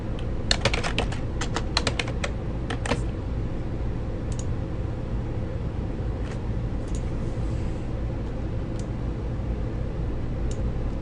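Quick bursts of computer keyboard typing as a username and password are entered, crisp clustered clicks early on, then sparse single keystrokes over a constant fan-like hum.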